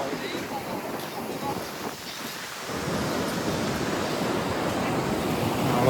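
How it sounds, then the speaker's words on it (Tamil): Steady rain pours down during a road trip toward Goa, a dense, continuous hiss with a brief lull midway before swelling back louder; no talking is heard. "மழை பாருங்க அழகாக இருக்குது."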